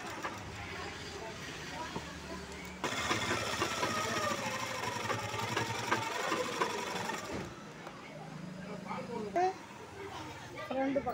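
Sewing machine stitching the front neckline of a lined 38-inch blouse; a fast, even mechanical whirr runs for several seconds in the middle, with someone talking before and after.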